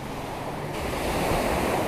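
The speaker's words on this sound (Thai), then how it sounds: "วันนี้น้ำทะเลขึ้น" Sea waves roll in at high tide on a shore, a steady, loud wash of surf with wind noise against the microphone and no voices.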